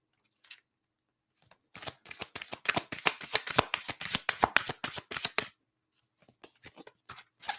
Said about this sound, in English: these cards are always so hard to shuffle